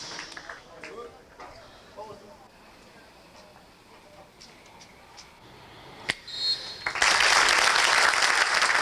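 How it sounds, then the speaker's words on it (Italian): Football fans at a stadium applaud in a memorial tribute for a late midfielder. A quiet, hushed crowd murmur with a few scattered claps builds into loud, sustained applause. "L'applauso dei tifosi della Ribera"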